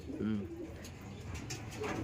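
Kept pigeons coo softly nearby, a low rolling coo standing out early and fainter calls following, while a person talks quietly over the birds.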